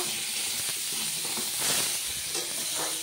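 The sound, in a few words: raw green banana frying in oil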